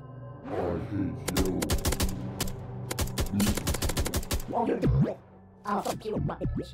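Gunshots in a cartoon horror video game, a fast run of sharp, close shots in irregular bursts with short gaps, mixed with a voice talking and exclaiming between them.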